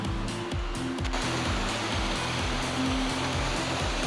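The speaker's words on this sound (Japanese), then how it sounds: "この下に滝があるんですけど" Nagahashiri waterfall below a trail in the Soni Kabuto-dake mountain gorge area in Nara, a steady loud rushing roar of falling water that fills the whole scene, with no voices.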